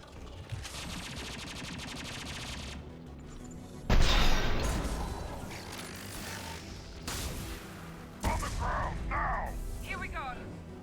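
Gunfire in the Mass Effect 2 video game, rapid bursts of automatic shots and sharp blasts that come and go in several loud clusters, with mechanical clatter and game noise between them.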